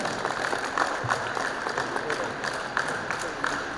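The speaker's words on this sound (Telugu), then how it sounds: "గట్టిగా చప్పట్లు కొట్టాలి." An audience at a community gathering claps in sustained, dense applause throughout, with a voice talking over the crowd.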